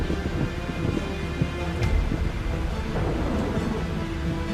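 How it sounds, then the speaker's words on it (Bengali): Thunder rolling outside during a storm, a low continuous rumble with a sharper crack partway through, heard alone as a sound effect in an animated story. "বাইরে বজ্রপাত হয়"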